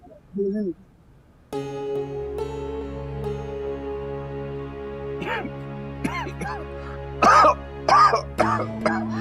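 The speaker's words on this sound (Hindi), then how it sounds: "आपकी खांसी खत्म क्यों नहीं हो रही?" A few scattered coughs, some harsh and rasping, over a steady background music bed with a brief voice near the start.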